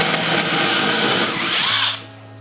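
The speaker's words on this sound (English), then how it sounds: "Just gonna drill it out" A power drill bores into a piece of wood with a loud, continuous high whir for nearly two seconds, then winds down to a low motor hum.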